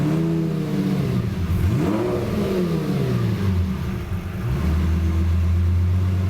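A cheap Lamborghini with a fault that makes it stall after throttle revs hard, its engine pitch swooping up and down in several loud close pulls before settling into a steady idle.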